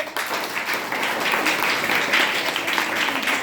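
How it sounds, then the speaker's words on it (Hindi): Steady applause from a group, a dense wash of clapping that holds at an even level for a few seconds with no talking. "तो हम सूरदास के लिए ताली बजाएंगे।"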